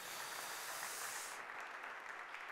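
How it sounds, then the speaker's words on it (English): A church congregation at a Sunday service breaks into a steady round of applause, soft and distant, a dense wash of clapping that thins slightly toward the end. "let's give these guys a round of applause"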